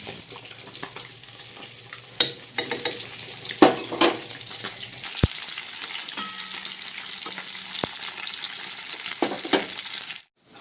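Fish frying in a pan in a home kitchen, a soft steady sizzle with occasional clinks and scrapes of stirring, fairly quiet and close.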